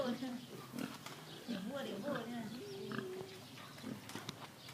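Pigs grunting and oinking on a farm, low squeals and snorts in a steady busy mix, with people talking over them.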